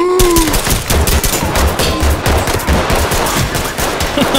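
Rapid automatic gunfire in the tactical shooter Ready or Not, loud and close, sustained bursts of shots one after another with a brief tonal sound at the start.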